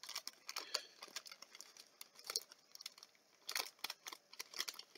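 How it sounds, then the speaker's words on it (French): A small sachet is worked open by hand in irregular bursts of crisp crinkling and tearing, close and fairly quiet, with short pauses and no talking. "Là, elle a mis un petit sachet. Attendez, je vais essayer de l'ouvrir."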